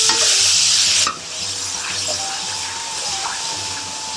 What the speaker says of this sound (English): Just want to cook the tomato out to get rid of the acidity.